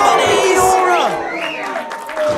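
Wrestling crowd at a South Wales pro wrestling show roaring and whooping after a double knees move, a loud sustained wave of cheers that eases slightly before swelling again.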